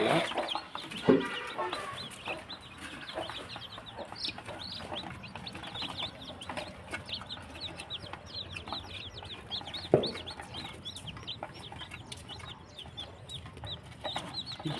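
Hens and freshly hatched chicks clucking and peeping together, a dense chorus of high chirps over softer clucks with a couple of louder bumps, close and continuous.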